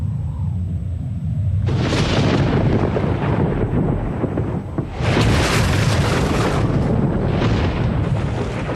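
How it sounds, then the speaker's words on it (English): Oxygen-rich air ignited by a thunderclap erupts in a loud, deep roaring blast, followed by a second sustained booming burst, with rumbling that fills the whole stretch. "One thunderclap was enough to cause the explosive air mixture to combust."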